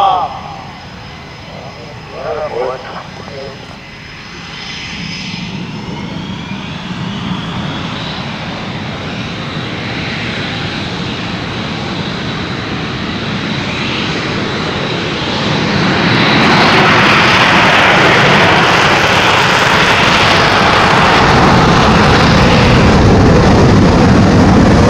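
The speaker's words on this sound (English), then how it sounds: "advance the throttles to maximum afterburner as both aircraft accelerate to takeoff speed while maintaining perfect formation" Two EA-18G Growler jets take off in formation at Oshkosh 2022 on full afterburner, a heavy roar that swells and then holds loud and steady, nearly masking some speech.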